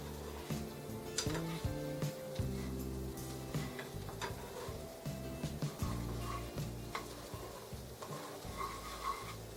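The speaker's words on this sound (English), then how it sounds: "this is a scrambled egg, so you'll just want to stir it around before it takes any kind of shape" Scrambled egg is stirred in a very hot, oiled pan, with repeated scraping and clinking of a utensil against the pan in an uneven rhythm over a low sizzle, close and fairly loud, with no talking.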